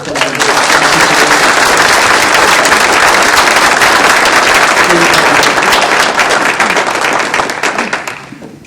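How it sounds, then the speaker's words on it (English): An audience gives a round of applause welcoming a guest speaker named Walt at a workplace gathering, loud dense clapping held for several seconds before tapering off near the end, with some crowd voices underneath. "let's give him a round of applause"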